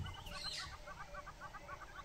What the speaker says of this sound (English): A lot of birds calling are here.